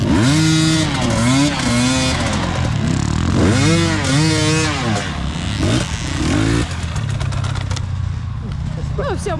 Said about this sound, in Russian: Ну все, можно бросить мотик.